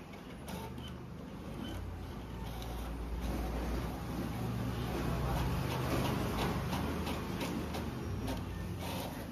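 A Brother DCP-T820DW inkjet printer draws a sheet back inside for duplex printing, giving a steady low mechanical whir with faint ticks and creaks, close by and fairly quiet throughout.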